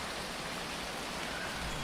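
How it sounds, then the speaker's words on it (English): Steady rain falls on an alien planet in the video game Phoning Home, a soft, even hiss of drops throughout, faint and continuous with no other sounds. "The rain is coming from very small clouds, as if the planet is sucking the water out of them."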